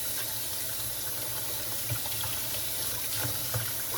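A kitchen tap runs steadily as dirt is rinsed off garden-fresh kohlrabi greens, a continuous close hiss of water with faint splashes and small knocks, no speech.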